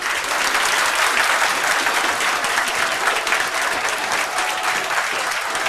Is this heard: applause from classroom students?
yes